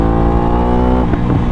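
Close and loud, an Aprilia RS 660 engine drones steadily on the throttle, then briefly rises in pitch near the end. No voices are heard.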